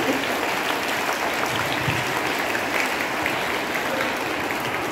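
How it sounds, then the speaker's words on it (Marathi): A seated audience at an Independence Day school programme claps, producing a dense, continuous wash of applause at an even level for about five seconds, with no pauses. "टाळ्या वाजवा."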